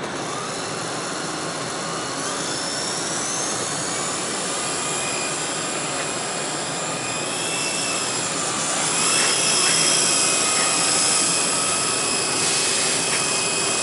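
A radio-controlled helicopter with a gyro system runs nearby, giving a loud, steady high-pitched turbine-like whine with a rotor drone that swells slightly partway through, with no one talking.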